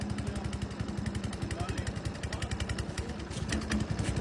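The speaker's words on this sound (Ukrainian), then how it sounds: "Дуже гарно вони працюють, подрібнювачі." A rental garden shredder's engine runs steadily with a rapid pulsing chug, while someone talks over it close by.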